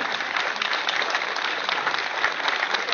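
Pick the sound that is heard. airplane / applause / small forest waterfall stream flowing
applause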